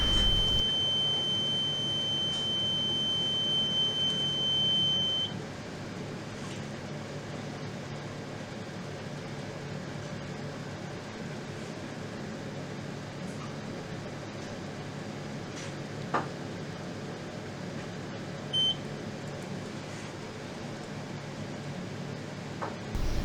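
A reconditioned oil mist detector head sounds its alarm during a smoke test: a steady, piercing electronic tone holds for about five seconds and then cuts off, followed later by one brief chirp over a constant low background hum.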